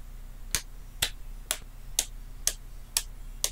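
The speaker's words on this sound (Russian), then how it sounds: "Саркастичные аплодисменты." Slow, sarcastic hand clapping, seven single sharp claps spaced evenly about half a second apart, close and isolated over a faint low hum.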